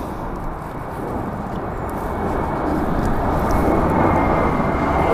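A Lufthansa airliner at Frankfurt Airport, heard as a broad, steady jet roar that slowly swells louder over several seconds, with no voices.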